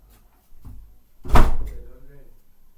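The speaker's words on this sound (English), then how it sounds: "let me quickly close the door" A door swings shut with a single solid thud, loud and close, after a little shuffling as it is pushed closed.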